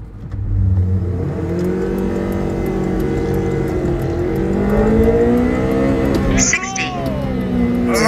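A Honda Civic Si engine revs hard and high, its pitch climbing, dipping and rising again in loud sweeps close by, with a brief sharp click near the end.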